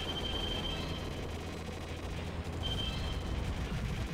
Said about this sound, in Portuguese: E vamos de bomba.